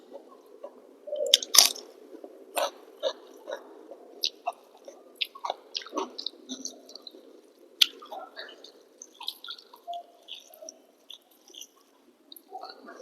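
Wet, squelchy chewing and soft mouth clicks from someone eating rice with thin hilsa curry, mashed potato and onion dal, close and intermittent in a quiet room.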